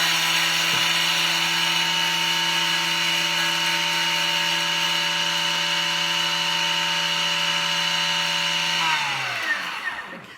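Food processor on high speed blending lemon and orange rind, a steady loud whirring motor held for about nine seconds before it winds down and stops.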